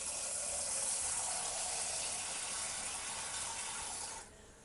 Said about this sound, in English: I'm just going to put half a pan of water.